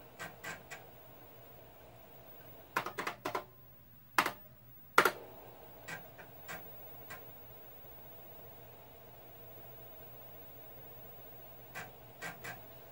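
Keys clicking on a 1980s Kaypro portable computer keyboard, sparse clusters of crisp, close taps separated by quiet pauses, with a faint steady hum underneath.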